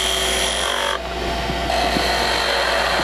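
A skew chisel cuts into spinning wood on a lathe, a steady loud rasping shave over the constant motor hum, with a short lighter pause after the first second before the cut resumes.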